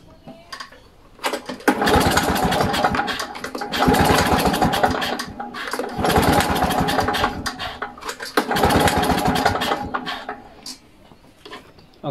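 A Victa two-stroke engine is cranked repeatedly during a compression test, four loud, long bursts of rapid chugging turnover separated by brief pauses, close and with no talking.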